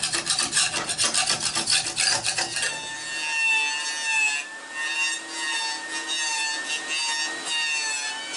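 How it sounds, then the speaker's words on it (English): Excess glue being scraped off a wooden chess board: a few seconds of rapid rhythmic rasping strokes, then a steadier, lighter continuous scrape, close and fairly loud with no talk. "What I'm going to do now is just remove some of the excess glue just by scraping it off."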